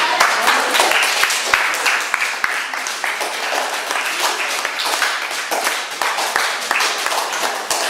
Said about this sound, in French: On peut s'applaudir, on va s'applaudir